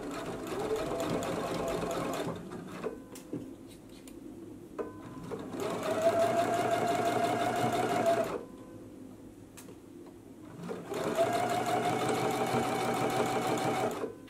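A sewing machine stitches in the ditch to secure the neck binding on a True Bias Roscoe blouse, running in three long, loud, steady bursts of rapid whirring separated by brief pauses.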